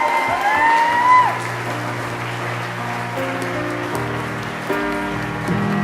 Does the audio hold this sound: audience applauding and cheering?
yes